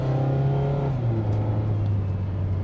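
A 2021 Mazda Miata engine revs and accelerates steadily on the road, its loud droning pitch rising and shifting as it pulls away, with a continuous low rumble throughout.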